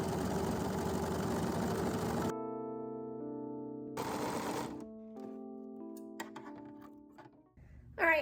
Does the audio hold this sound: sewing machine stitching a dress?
yes